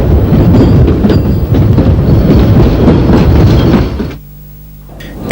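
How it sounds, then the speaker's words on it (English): A Central London Railway tube stock train rumbles and clatters loudly into a London station, then the noise drops away abruptly to a low hum as it comes to rest. "a train of Central London Railway tube stock arriving"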